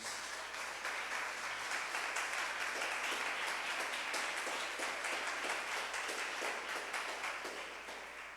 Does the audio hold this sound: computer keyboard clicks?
no